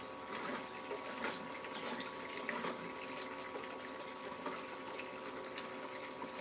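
Water runs steadily down a gold prospecting sluice as gravel material is pushed through, making a continuous close gushing rush that holds the same level for several seconds, with no talk.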